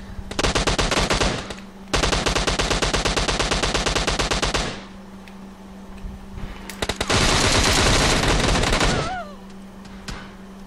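Automatic rifle fire in PUBG Mobile's Team Death Match mode: two long, loud, rapid bursts, a short pause, then another sustained burst, with a few quieter shots in between.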